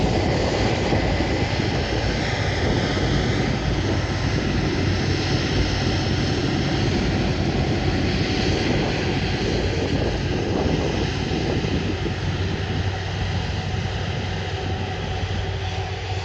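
Engine roar of a Ryanair Boeing 737 at Manchester Airport, a steady, loud broadband rumble and hiss that holds for the whole stretch without a break, with no one talking.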